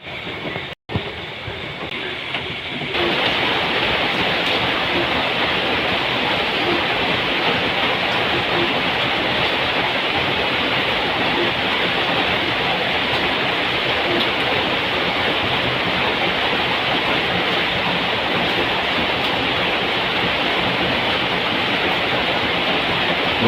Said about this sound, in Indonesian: kalau di luar terdengar suara hujan deras sekali ya